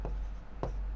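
A pen moves across paper while a math solution is handwritten, giving two brief, soft scratching strokes. A quiet steady hum sits underneath.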